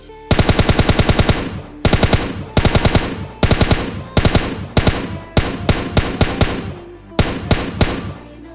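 Automatic gunfire in the mobile battle-royale game PUBG Mobile Lite comes in a string of loud, sharp bursts. Each rapid volley is separated by brief pauses and runs throughout.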